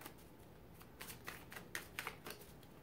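Tarot cards being shuffled by hand, a quiet run of soft riffling flicks and taps that come in quick bursts near the listener with no talking.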